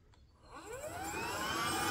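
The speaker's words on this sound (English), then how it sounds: "it makes noise because there's a vacuum and brush movement" A Bissell StainEraser Turbo carpet cleaner's vacuum motor spins up, its whine rising in pitch and growing steadily louder into a sustained, close roar with brush noise underneath.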